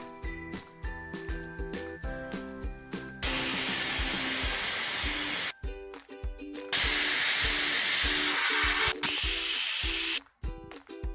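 A pressure cooker cooking dal and rajma lets out loud, sustained steam whistles, two long hissing blasts that stop abruptly, with background music before and between them.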